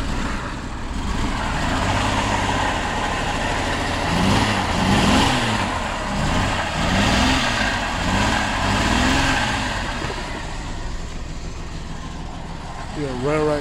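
A turbocharged Jeep Cherokee Trackhawk engine idles and runs after startup, a steady low rumble close by with a few rising revs in the middle and people talking over it.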